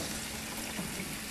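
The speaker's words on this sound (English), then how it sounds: "And then I'm just going to run it under some water and just kind of taste test." Tap water running steadily over cooked pasta in a strainer at a kitchen sink for mac and cheese, a constant close hiss and splatter with no pauses.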